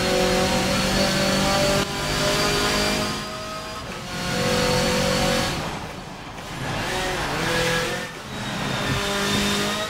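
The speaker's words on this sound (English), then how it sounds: "Whoa, whoa, whoa, whoa, whoa, car, whoa!" Racing cars in Forza Motorsport 7 rev hard through repeated gear changes, their engines rising in pitch again and again with brief tire squeal, loud and constant, with a voice briefly heard.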